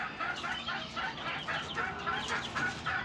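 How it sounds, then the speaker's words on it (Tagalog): Young chicks, seven of them at ten days old, cheep in a steady run of high chirps up close, with no talking. "Bali 7 ang sisiw nila."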